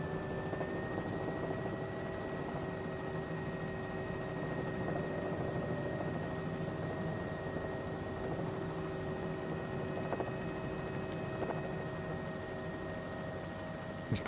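Helicopter rotor drone from a flight simulation game, a continuous steady whir with a constant engine hum and faint whine, unchanging and evenly loud throughout.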